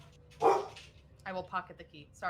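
A dog barks in the background of a tabletop game session, one loud bark followed by a few shorter yips, with people talking over the sounds.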